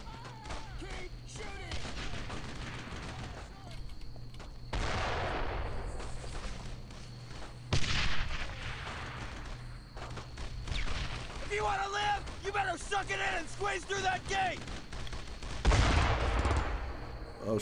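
Machine-gun bursts and rifle fire rattle through a World War II battle in Brothers in Arms: Road to Hill 30, with repeated volleys and booms mixed with shouted voices.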